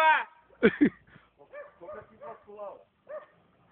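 A dog barks and yips nearby outdoors in a short series of sharp, pitched calls amid people talking.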